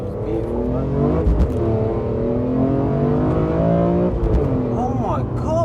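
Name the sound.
BMW M3 CSL engine accelerating while driving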